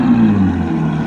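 Close, loud engine revving from a Novitec Ferrari 812 N-Largo, a sustained exhaust drone that dips slightly in pitch, heard alone without talk.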